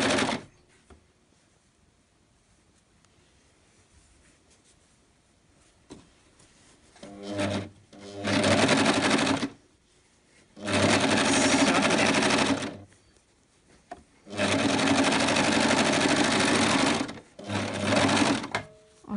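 A sewing machine stitches a sleeve onto a jersey bumblebee costume in bursts: three long whirring runs and a shorter final one, close and loud, separated by quiet pauses.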